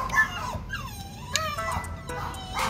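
Dogs whimpering and whining with rising and falling howl-like wails, several plaintive cries over a low background rumble in a workshop where a Yamaha XJR400 motorcycle is being worked on.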